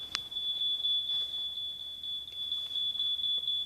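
A smoke detector with a low battery sounds a continuous high piercing electronic tone close by, steady throughout in an otherwise quiet room.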